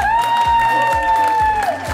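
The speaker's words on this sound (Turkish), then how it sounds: "Alkış alalım lütfen." Guests at an outdoor country wedding clap steadily as a crowd, with sustained tones and a melody-like line riding over the applause, fairly close and loud.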